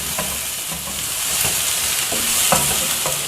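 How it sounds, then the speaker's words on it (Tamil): Tomatoes sizzle in a hot pan for sambar while a utensil stirs and scrapes them every so often, close and steady with no speech. "தக்காளியும் கொஞ்சம் நேரம் நம்ம இப்போ வதக்கணும்"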